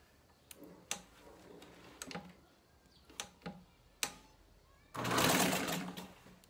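A sewing machine runs a short stitching burst along the edge of fabric, preceded by scattered clicks and light handling taps, close and fairly quiet with no talking.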